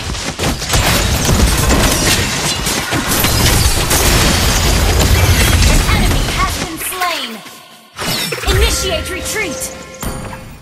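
A turret being destroyed in a mobile battle game: loud crashing explosions and bursts in a dense, continuous barrage, then a sharp break followed by another heavy hit, with game voices and tones sounding over the din.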